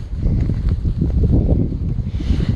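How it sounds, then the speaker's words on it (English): Steady wind gusts buffeting the microphone on an exposed mountain trail at about 3,000 feet of elevation gain, a continuous low rumbling roar with brief lulls and no speech. "Even though it's a little windy and a little chilly"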